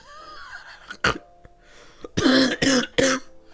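Coughing sounds from the video game Coffee Talk 2, a sharp burst followed by a rough cluster of coughs and a sneeze-like expulsion, close and loud over faint game tones.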